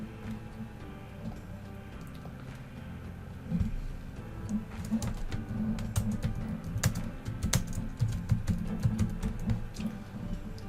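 Close, quiet clicking of a computer keyboard as someone types a slide heading in PowerPoint, bursts of quick keystrokes growing denser after the first few seconds, with no talking.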